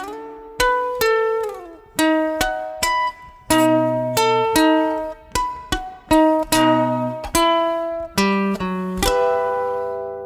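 Guitar playing a riff at a slow 30 bpm, mixing picked notes and natural harmonics across the first three strings; distinct plucked notes and chords ring out one after another with clear gaps, close and alone.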